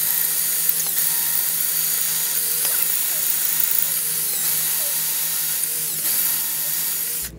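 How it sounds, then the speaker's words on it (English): A drill with a concrete bit boring into a concrete foundation wall, with a steady high whine and grinding that runs nearly the whole time and stops abruptly at the end. "Now she's going to use the concrete bit."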